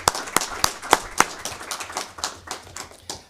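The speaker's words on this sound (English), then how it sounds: "So also a round of applause for our Landrum Band students." Sparse, sharp hand claps from a small audience at a school board meeting, honoring the Landrum band students; a few loud separate claps at the start thin out into lighter, scattered clapping that trails away.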